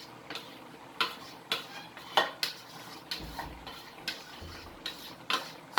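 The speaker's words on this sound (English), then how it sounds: "Sorry, I had to change my pot." A metal cooking pot for vegetable soup clanks and scrapes as it is swapped for a bigger one, with sharp knocks and rattles recurring roughly every half second, close by, no talk.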